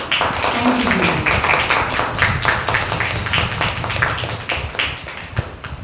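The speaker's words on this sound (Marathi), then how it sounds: "बाबासाठी टाळ्या वाजूया." A church congregation claps in applause, a dense, steady patter of many hands close by that carries on for several seconds and eases slightly toward the end.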